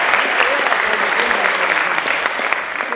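Loud, close applause from the audience at a film premiere gala, with thick, continuous clapping and a few sharper individual claps standing out.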